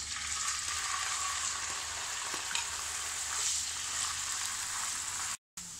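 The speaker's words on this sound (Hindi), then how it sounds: "सबसे पहले हम इसमें ये पनीर के क्यूब्स डाल के इसको हमें तलना है गोल्डन कलर तक" Paneer cubes frying in half a cup of hot oil, a steady close sizzle with faint bubbling and no voices.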